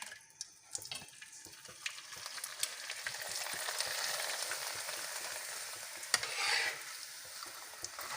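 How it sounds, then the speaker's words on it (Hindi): Rice papad frying in hot oil for a papad chaat, a soft, fairly quiet sizzle that swells into a bubbling hiss midway, with a few light clicks and no talking. "डालने का अब माँ डाल रही है पापड़ इसके अंदर फ्राई करने के लिए।"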